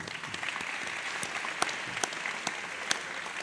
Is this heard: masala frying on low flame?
no